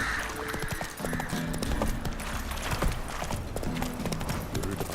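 Horse hooves galloping in The Witcher 3 video game, a rapid, steady clip-clop rhythm running throughout, close and prominent over a layer of game music and ambience.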